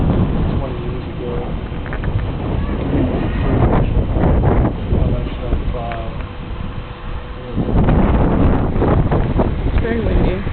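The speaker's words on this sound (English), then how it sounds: "It's very windy." Strong wind buffets the microphone outdoors on a deck by the water in a Tulsa park, a continuous low roaring rush that swells and eases in gusts throughout, with faint voices partly buried beneath it.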